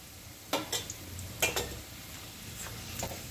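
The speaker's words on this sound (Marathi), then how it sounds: "आता बघा, असं हाफ फ्राय करून घ्यायचा पहिले" Barule being half-fried in a pan for an Aligarh-style barule recipe, a soft steady sizzle of oil with a few sharp clinks and scrapes of a utensil stirring against the pan, fairly quiet and close.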